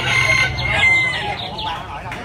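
A rooster crows loudly and close at a Vietnamese rooster beauty show, one drawn-out cock-a-doodle-doo with clucking and other fowl noise around it, while background chatter continues.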